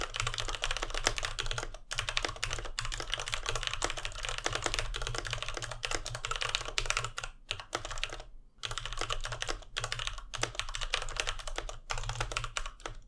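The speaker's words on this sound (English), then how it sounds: "here is a sound sample to hear how this particular keyboard sounds with the Cherry MX red" Steady, fast typing on a Riotoro Ghostwriter Elite mechanical keyboard with Cherry MX Red switches, close and clear. Dense runs of keystrokes are broken by a few short pauses, with no voices.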